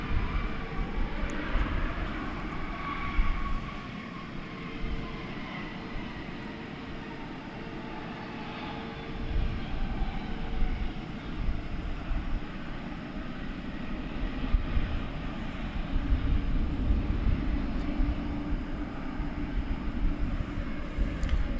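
An American Airlines Airbus A321 bound for Denver roars at DFW International Airport, its engines a broad, sustained rumble that swells and eases as it moves, heard from some distance with no talk.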